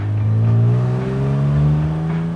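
A 1950s Aston Martin pulls hard out of a tight roundabout, its engine note rising steadily under load with a strong, throaty drone, close and loud throughout with no talk.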